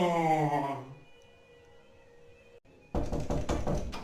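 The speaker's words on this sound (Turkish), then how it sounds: "Kapımı çalıyor ya." A door is knocked on with a burst of rapid raps near the end, after a tonal sound that fades into a quiet, humming room.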